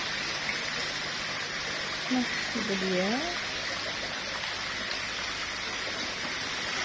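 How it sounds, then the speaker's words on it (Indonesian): A small waterfall splashes into a fish pond on a university campus, a steady broadband rush of water close by, with someone talking briefly over it. "Ada gerojokan kecil di kolam ikan."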